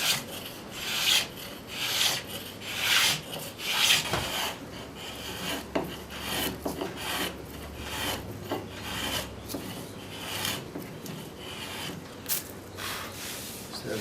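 A travisher and spokeshave shave and smooth a wooden chair seat in rhythmic rasping strokes. The close, repeated scraping passes come at an even working pace with no talking.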